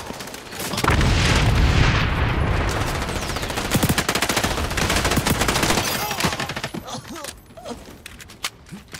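Gunfire and grenade blasts in the shooter game XDefiant, played in Domination mode with a P90: loud sustained automatic fire with booming explosions. The shots thin out into scattered bursts near the end.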